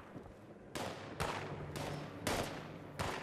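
Distant gunfire in Fallout 76 sounds as a run of four sharp reports spaced about half a second apart, each trailing off in a rough echo, with no talk.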